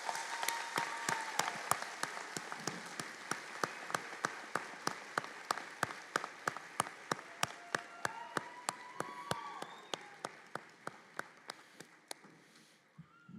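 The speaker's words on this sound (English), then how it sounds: "Let's give these guys a big round of applause." Audience at a nursing school pinning and candle lighting ceremony applauding, starting as a crowd of claps and thinning to a few scattered, distinct claps that fade out, fairly faint and roomy.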